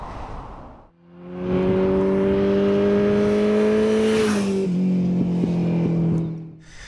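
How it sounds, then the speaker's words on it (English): A Kawasaki ZH2 motorcycle engine drones loudly while riding, its steady tone holding at high revs before a brief dip and shift, then resuming until the sound fades. "today I'm riding on the Kawasaki ZH2"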